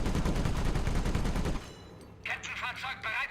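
A World War II cannon in the Company of Heroes strategy game fires a dense, loud burst of rapid shots for about a second and a half, then stops, and voices talk afterward.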